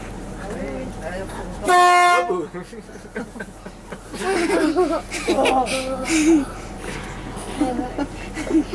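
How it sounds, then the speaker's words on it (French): One loud, sustained train horn blast near the start at Quimper railway station, followed by people talking and laughing. "Les klaxons"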